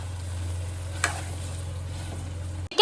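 A pan of chicken ghee roast topped with coriander sizzles softly under a steady low stove hum, with one brief scrape of a spoon stirring. The hum cuts off abruptly near the end, followed by a short clatter.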